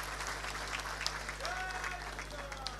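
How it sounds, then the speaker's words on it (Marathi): A crowd at a political gathering claps to welcome the guardian minister, a dense but faint wash of applause over a steady low electrical hum, with a few whistles. "जोरदार टाळ्या वाजवून पालकमंत्र्याचं आपण स्वागत करूया"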